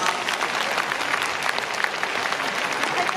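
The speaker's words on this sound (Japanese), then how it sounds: "毎一度大きな拍手を皆さんお願いいたします" A large crowd of baseball fans at a Tokyo Yakult Swallows fan appreciation event applauds the team's players, loud sustained clapping throughout, close and unbroken.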